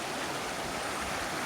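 River water rushes steadily in a dense, broadband wash, close and constant without any other sounds.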